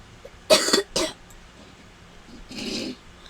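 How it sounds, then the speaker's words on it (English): A child coughs inside a camper: two sharp, close coughs in quick succession, then a softer, breathier cough a moment later, against a quiet background. "That's my son over there. He's coughing"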